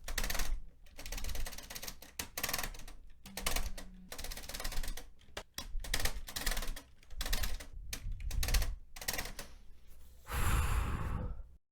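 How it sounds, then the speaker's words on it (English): A computer keyboard spacebar is pressed rapidly and repeatedly during a Cuphead session, making dense bursts of close plastic clicking and clattering, broken by short pauses, with a louder rustling burst near the end. "after bullying my spacebar for long enough"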